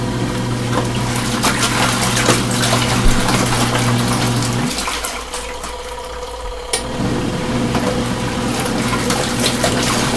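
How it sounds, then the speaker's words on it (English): Water runs and churns steadily inside an LG ThinQ MEGA washer during the main wash of a normal cycle with cold water and heavy soil, a constant close rushing with a low pump-like hum that briefly drops away midway. "we've got about 9 to 8 minutes on the main wash for the mega washer"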